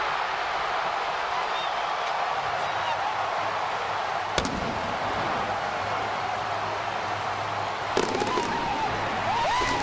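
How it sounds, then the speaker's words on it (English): Fireworks go off at a baseball stadium after an Indians win, with sharp bangs and crackling bursts over a steady crowd roar, including louder cracks partway through and near the end. "Start the fireworks show."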